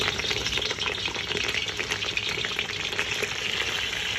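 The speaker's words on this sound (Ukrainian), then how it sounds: "В розігріту олію додаємо яловичі ребра та шиї." Beef ribs and necks fry in hot sunflower and olive oil in a cauldron on a stovetop, giving a loud, dense, steady sizzle that holds for the whole stretch, with no voices.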